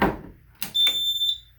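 A Simplex 4006 fire alarm panel powering up: a thump, then a brief electronic tone that holds steady for about half a second and cuts off, close and fairly loud.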